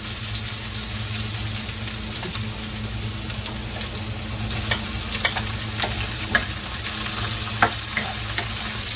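Ginger and onion fry in a pan with a loud, steady, close sizzle and a few sharp crackles and stirring clicks, no one speaking.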